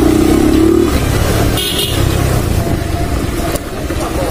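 Motorcycles ride along a road, among them a Pulsar 180 BS3 and an NS 200 BS3, as a loud continuous engine drone and wind roar runs throughout and a brief horn toot sounds near the start.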